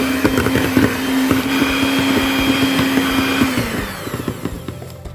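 Electric hand mixer whirring through marble cake batter in a bowl, a steady close motor drone that runs for several seconds and then cuts off, leaving quieter bowl noise.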